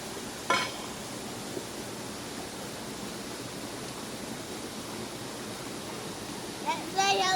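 A river streams in a steady, soft rush of flowing water outdoors, with a voice and brief talk breaking in near the start and end.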